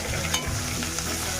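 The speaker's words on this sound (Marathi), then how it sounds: "तेल गरम झालेलं आहे। मोहरी टाकते, जिरं टाकलं, लसूण" Mustard seeds, cumin and garlic hit hot oil in a pan for kadhi, giving a bright, close, continuous sizzle and crackle with a quick stir, no voices.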